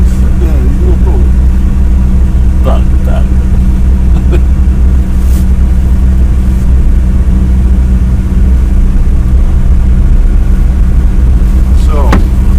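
Steady car engine drone with low rumble while driving through Siberian city traffic, loud and continuous throughout, with voices talking intermittently over it.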